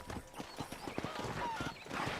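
Rapid, steady clip-clop of horse hooves trotting in Red Dead Redemption, fairly faint and close, with a soft whinny-like tone in a busy game soundscape.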